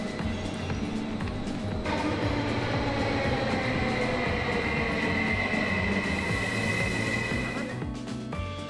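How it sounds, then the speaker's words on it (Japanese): A train runs from the airport to Helsinki station, a continuous loud rumble of wheels and carriage noise with faint squeals and rattles, heard from inside the moving car. "空港から電車で移動し、ヘルシンキ駅に向かいました"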